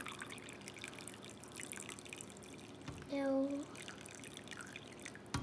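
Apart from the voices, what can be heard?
hot water from a kettle poured into a measuring jug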